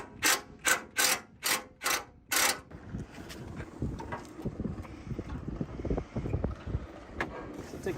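An impact driver with a Torx 40 bit works on bolts on a Ford Bronco, firing six short, loud, evenly spaced bursts, followed by quieter clinking and handling of parts.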